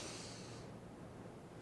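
A deep breath drawn in, a steady airy hiss that is strongest at the start and then eases into a softer, continuous rush for under two seconds, close and quiet with no talking.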